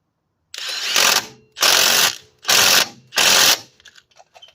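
A ratchet tightening the harmonic balancer bolt on a 2003-07 Honda Accord 2.4L, heard as four loud, close bursts of rapid clicking from the pawl, separated by brief pauses, followed by a few faint clinks.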